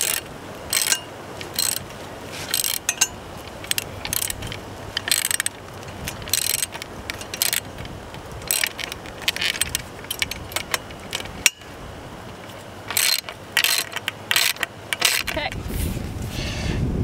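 Bolts with washers being screwed into a new handle on a vintage Planet Jr wheel hoe, with continuous close ratcheting, clinking and mechanical rattling throughout, and a voice speaking faintly beneath.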